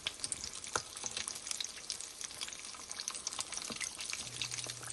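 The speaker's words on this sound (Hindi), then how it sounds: "गर्म घी में समोसे फ्राई कर लेंगे।" Samosas deep-frying in hot ghee give a steady, dense sizzle with continuous bubbling crackle and a few soft clinks, close and fairly quiet throughout.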